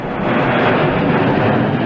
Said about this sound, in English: Planes just come right over Winthrop and land at Logan Airport.